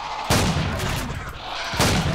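Two loud shotgun blasts, about one and a half seconds apart, fired at an aggressive dinosaur in the game Empyrion, each a sharp booming burst with a short decaying tail.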